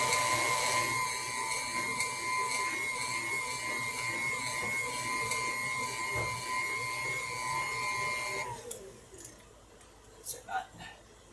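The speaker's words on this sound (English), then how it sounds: "You don't do anything to them except turn your your mixer on high." An electric mixer running on high whips potatoes with a steady, bright mechanical whine, then shuts off near the end. A voice speaks over it.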